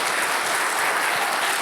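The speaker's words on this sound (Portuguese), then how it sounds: "Aplauda bem forte ao Senhor," Loud, dense applause from a church congregation praising the Lord during a sermon, sustained clapping with no gaps and no talk over it.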